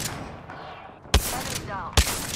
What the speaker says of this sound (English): Shooting. Taking fire.